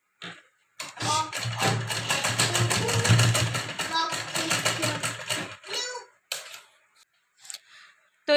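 A sewing machine stitches a side zip into a blouse, a close, steady mechanical whirr with rapid rhythmic ticking that runs for several seconds before stopping, followed by brief handling noises.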